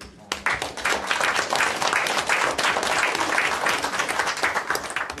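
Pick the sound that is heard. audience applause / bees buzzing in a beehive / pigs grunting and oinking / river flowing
audience applause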